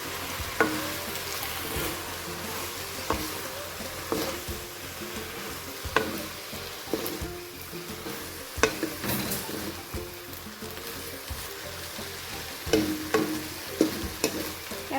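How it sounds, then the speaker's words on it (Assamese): Taro pieces stirred as they fry in a pan, with repeated scraping strokes of a spoon over a steady oil sizzle, close and moderately loud with no talking. "এতিয়া মই কচুখিনি লৰাই ল'ম।"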